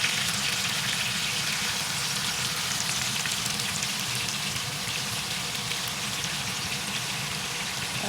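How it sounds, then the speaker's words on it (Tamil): Chicken pieces coated in masala fry in a pan of hot oil, a dense steady sizzle and crackle that runs loud and continuous throughout with no voices. "மசாலாலாம் போட்டு அதையும் அப்படியே நாங்கள் எண்ணெய் சட்டியில் போட்டு ஃப்ரை பண்ணி எடுப்போம்"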